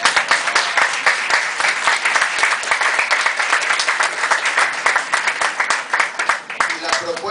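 Applause at a folk music awards ceremony, with many hands clapping in a crisp, rapid, steady rhythm close by, sounding bright and continuous from start to finish.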